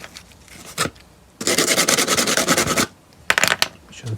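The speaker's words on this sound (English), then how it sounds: "Hands being sanded, make them a bit coarser." Replica C-3PO protocol droid hands being sanded by hand: a brief rasping stroke, then a long steady stretch of gritty scraping, then a shorter burst. The sound is close and there is no talking.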